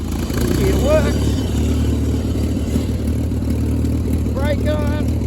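An 87-year-old tractor engine chugs loud and close at a steady, rough idle-like rumble while the machine drives, with a voice briefly speaking over it.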